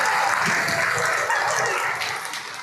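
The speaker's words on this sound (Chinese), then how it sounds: "给侯机长一个掌声好不好？" Crowd applause for Captain Hou at a dragon boat championship gathering of lifeguards, a thick, continuous roar of clapping that holds strongly, then eases slightly toward the end.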